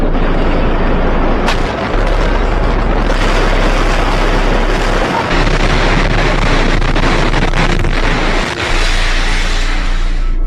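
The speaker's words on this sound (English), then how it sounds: "you hear a successive, progressive, smaller waves of smaller explosions going off" A loud, continuous roar of rumbling blasts and crackling detonations from a controlled demolition, successive waves of smaller explosions, dense and sustained, with wind buffeting the microphone.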